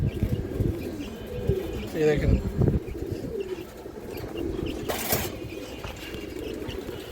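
A pair of Muslodom pigeons coo in low, throaty murmurs nearby while someone speaks briefly over them, with a sharp rustle partway through.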